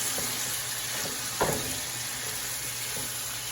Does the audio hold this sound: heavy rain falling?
no